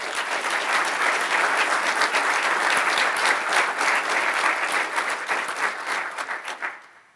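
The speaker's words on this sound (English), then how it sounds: "let's all give Chris a big round of applause." Sustained, full applause from a school audience at a 2011 scholar attitude presentation honors a student, steady and loud for several seconds before tapering off at the end.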